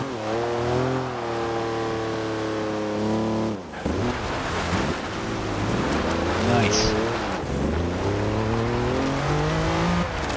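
A Lamborghini Countach in Forza Horizon 2 revs hard with a rising and falling engine howl, then drops off into rough, crackling exhaust pops before climbing again, loud and close throughout.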